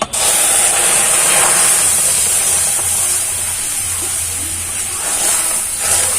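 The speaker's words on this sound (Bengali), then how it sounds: "এই যে দুধ নিয়েছি, এই দুধটা এবার দিয়ে দেবো" Milk is poured into a hot pan of roasted semolina and bursts into a loud, sustained hiss of steam and sizzle that stays close and steady, with no talking.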